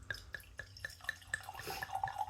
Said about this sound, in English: Let's pour it into the glass.